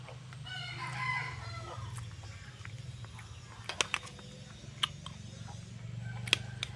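A rooster crows at a distance, accompanied by occasional clucking from other fowl, all set against a steady low background hum and a few sharp clicks.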